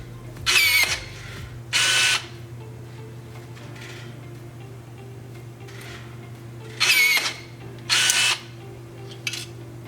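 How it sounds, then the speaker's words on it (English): A Lobster R1B2 battery-powered riveter pulls rivets in four short, loud whirring bursts, two close together at the start and two more several seconds later, with a quiet mechanical hum between them. "I'll just go ahead and pull a couple rivets here and show you the pull"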